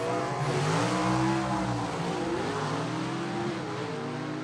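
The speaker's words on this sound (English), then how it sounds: "Alan Lovelady just went straight up in the tire spin" Gasser drag cars on 7-inch Mickey Thompson tires launching at Gulfport Dragway, one spinning its tires: a loud, sustained engine roar whose pitch wavers up and down, close and dense throughout.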